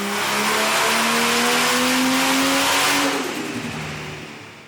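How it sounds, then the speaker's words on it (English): A car called Project NOMANG, fitted with a screamer pipe, revs hard on a dyno: a loud, raw exhaust note climbs steadily for about three seconds, then eases off as the revs fall away. "Luke, I saw you and George, Project NOMANG, hit the dyno and that screamer pipe, pure bliss."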